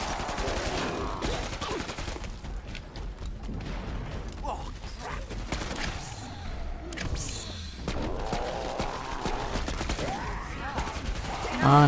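Assault rifle fire in the video game Killing Floor 2, dense continuous bursts of rapid gunshots layered with game effects and crashes, loud and unbroken, with a player's voice talking over it.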